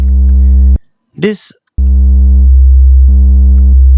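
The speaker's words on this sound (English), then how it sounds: "our sine wave gets rounded off on the peaks of the sine" A steady sine-wave tone with slight soft-clipping waveshaping distortion that rounds off its peaks, holding loud and even, cut by a brief gap where a voice speaks a word before the tone resumes.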